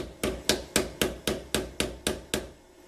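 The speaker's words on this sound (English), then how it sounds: "I'm going to grab a screwdriver and a hammer, and that'll probably get it the rest of the way off." Hammer driving a screwdriver wedged between a wheel spacer and the hub of a Pontiac GTO, nine sharp metallic knocks at a steady quick rhythm, loud and close, with no talk.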